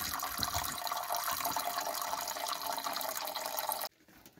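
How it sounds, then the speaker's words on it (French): Drinking water pours from a large jug at a campsite, a steady splashing stream close by for nearly four seconds before stopping abruptly, leaving quiet background. "j'ai sorti mon gros bidon d'eau potable pour les toutous. Et puis, je vais arroser ça."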